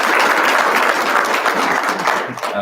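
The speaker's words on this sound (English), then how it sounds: "So let's give her a round of applause." Steady, dense applause from a large audience at a university state-of-the-university address, loud and continuous throughout with no break.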